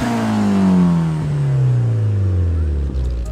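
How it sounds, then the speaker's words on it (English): An inline-4 car engine revs up high and then winds smoothly down in pitch over a few seconds, close and loud, with a steady tone. "That's the sound of an inline-4 engine."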